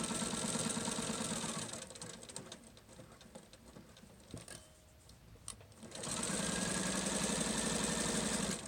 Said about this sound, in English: make sure that you do that when you're stitching.